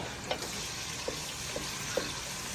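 Meat hits hot oil with aromatics and sizzles, a steady close frying hiss broken by a few small pops and stirring clicks.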